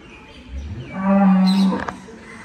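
Cattle in a temple cowshed: a single long, loud, low moo rises and holds for about a second before breaking off, close by, with faint background noise and no speech.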